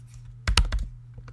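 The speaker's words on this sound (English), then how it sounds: "So I'm just typing in the box and then pressing return." Computer keyboard typing during data entry into a search box, a quick cluster of close, crisp key clicks with a few softer taps trailing after, no talking.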